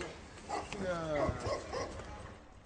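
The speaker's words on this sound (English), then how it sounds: "Well, I keep several dogs here. Some of them are quite rare." Several dogs, some of them rare breeds, bark and yip at a private kennel. Their short, whining barks rise and fall at mid-distance while a person talks over them.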